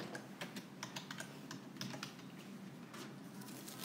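Typing on a computer keyboard: quick, irregular key clicks close by, soft and steady for several seconds with no talking.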